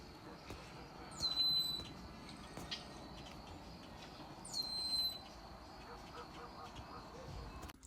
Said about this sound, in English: It's so peaceful just sitting listening to the birds.